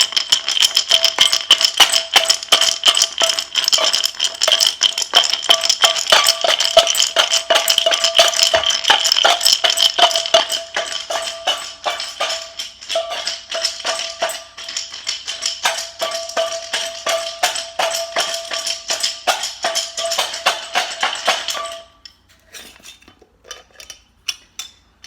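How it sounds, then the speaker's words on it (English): Runes shaken in a glass jar: continuous rapid rattling and clinking of many small pieces against glass for over twenty seconds, loud and close, then a few scattered clinks as the shaking stops. "the clankety clink that you hear in this glass jar"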